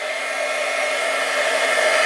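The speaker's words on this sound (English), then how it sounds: "So you take your heat tool, you're gonna turn it on and wait a few seconds just so that it heats up all of the way." An embossing heat tool blows hot air with a loud, constant fan whir and airy hiss, held close and unbroken throughout, with no voices.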